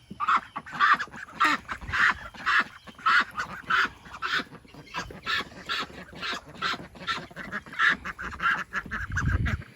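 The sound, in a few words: ducks in their duck area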